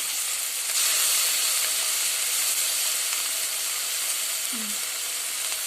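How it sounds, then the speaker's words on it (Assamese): Chopped onions sizzling loudly in a hot pan while cooking pork ears, a constant close hiss with a brief faint sound partway through. "এতিয়া আমি বটি থোৱা পিয়াজখিনি দি দিছো।"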